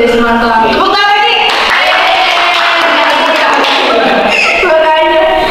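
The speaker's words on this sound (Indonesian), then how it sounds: "Tepuk tangan lagi." Audience applause in an Indonesian school podcast studio, dense clapping swelling loud and steady for several seconds, with voices and a tonal musical sting layered over it.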